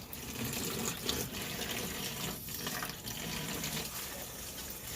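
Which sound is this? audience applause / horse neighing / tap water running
tap water running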